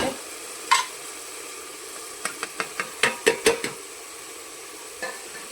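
Spicy masala sizzles softly in oil in a pan for chhole while a spoon stirs and scrapes, giving a run of sharp metallic taps and clinks over a low, steady frying hiss.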